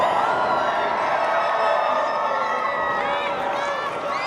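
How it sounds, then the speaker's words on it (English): A crowd at a live lucha libre wrestling show cheers loudly for the wrestler El Reverso, a dense, sustained roar with rising whoops near the end and a commentator talking over it. "Crowd really on fire here for El Reverso."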